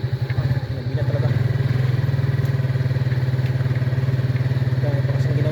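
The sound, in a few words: motorcycle riding at night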